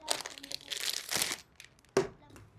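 Plastic pouch being handled, close crinkling and rustling in several short bursts with one sharp crackle near the end, loud against a quiet background.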